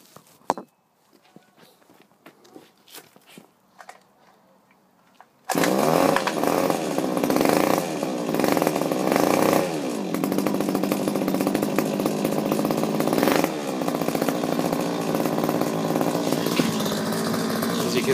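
After a few seconds of quiet handling noises, a Goped Roo scooter's small two-stroke engine is pull-started and catches at once, then buzzes loud and close with several revs, rising and falling in pitch.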